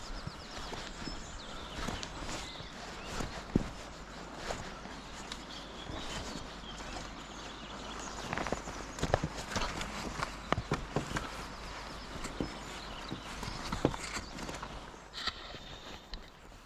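A horse's hooves clip-clop at a walk over a metal cattle grate on a hillside path near a gate, irregular hard knocks and clanks over an outdoor background.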